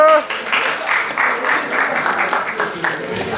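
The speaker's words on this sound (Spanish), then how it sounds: "les pido un gran aplauso" A press-conference crowd in Mexico welcomes Carlos Vives with a loud burst of applause, dense clapping pulsing steadily and close, with voices mixed in underneath.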